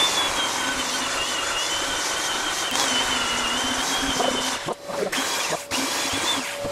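Belt sander working the rounded edge of a wooden wine barrel: a continuous loud grinding whine with a steady tone, briefly dipping twice near the end as the sander lifts off.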